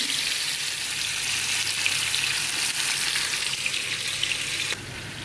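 Boal fish coated in chili and turmeric powder sizzles steadily in hot oil, a continuous loud frying hiss that drops slightly near the end.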